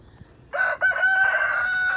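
A backyard flock of hens and a rooster, some birds losing feathers, with a loud, close rooster crow held for over a second after a brief quiet start, with faint clucking in the background.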